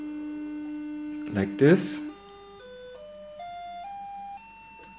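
A magnetically assisted electromagnet hums as its oscillating field is driven at changing frequencies, a pure electric tone stepping upward in pitch several times, with a brief burst of talk near the start.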